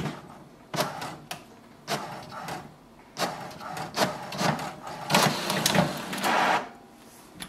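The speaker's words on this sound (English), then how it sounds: "So it sends a command to the printer to print a page." An HP DeskJet 4122e inkjet printer running off an information page: a series of loud mechanical whirs and clunks from the carriage and paper feed, repeating in irregular bursts over a low motor hum, close by with no talk.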